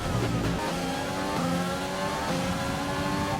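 F1 race car engine in the F1 2020 video game, racing at Belgium: a loud, continuous high-pitched engine whine with shifting revs, steady and close throughout with no voices.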